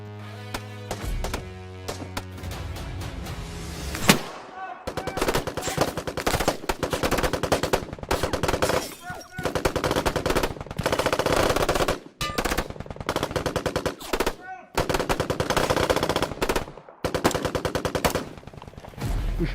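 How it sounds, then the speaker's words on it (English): Loud, close automatic gunfire in a firefight, with repeated rapid bursts separated by brief pauses, continuing throughout. "So, we take cover and return fire."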